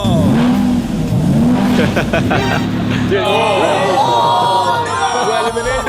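A Lamborghini accelerates loudly nearby, its engine note sweeping up in repeated rising revs while excited voices and crowd shouts overlap the roar.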